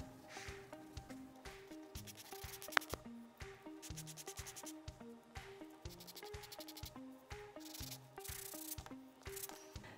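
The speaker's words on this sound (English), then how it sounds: "Next up, we want to sand the edges, so you can put them together and do that all at once so they're nice and even." Sandpaper rubs rhythmically against the edges of model airplane parts held together, steady back-and-forth scratching strokes, close and fairly quiet, with no talk.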